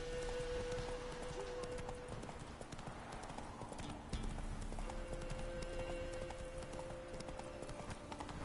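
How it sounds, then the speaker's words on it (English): The horse Roach runs in The Witcher 3 video game, with steady, rhythmic hoofbeat clip-clops close by throughout and a faint whinny, over a light rain-like background. "Run, Roach."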